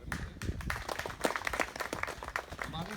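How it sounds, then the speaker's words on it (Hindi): An audience claps in a burst of uneven, fairly faint applause to welcome a guest at a natural farming awareness gathering, with no voice over it. "आप आपका ताली बजाकर स्वागत करें"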